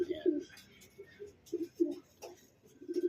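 A blue bar racing pigeon just back at its loft from a 29 km training flight coos in short, low bursts, about a dozen rhythmic phrases close by, with quiet talk in the background.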